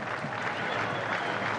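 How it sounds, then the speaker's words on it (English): Steady applause from cricket teammates marking Quinton de Kock's half century in a South Africa vs Pakistan one-day international, a continuous dense patter of clapping held at an even, moderate level with distant ground crowd noise. "So just applause from his teammates"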